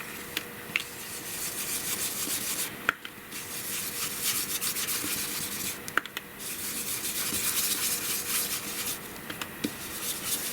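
Paper being rubbed down by hand over a freshly stamped leaf design on cream-colored card, a continuous close, dry scratchy rubbing with a few small taps, heard alone.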